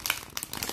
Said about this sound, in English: like you shuffle cards